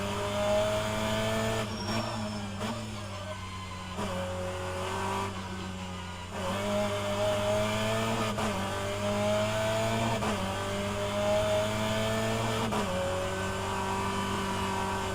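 An onboard race car in a BTCC-style series race at World Wide Technology Raceway road course runs with a steady loud engine drone whose pitch shifts and dips abruptly as something fails, with no talking.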